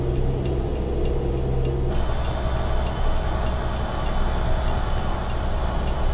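Steady, continuous engine drone from a Kenworth W900 truck cruising in American Truck Simulator, a low hum held at even loudness throughout with a faint ticking layered on top.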